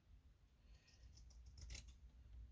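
Scissors snip through fabric while a quilt top is being finished, a single quiet cut near the middle against a faint room background.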